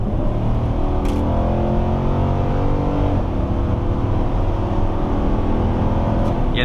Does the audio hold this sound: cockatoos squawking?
no